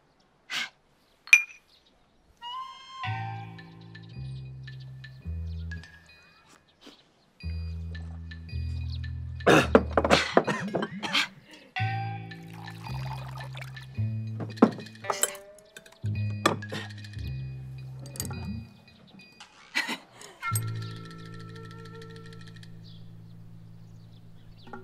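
At a period-drama banquet toasting a general, glasses and tableware clink repeatedly with scattered bright taps and knocks. Steady low musical notes and occasional breaths run underneath.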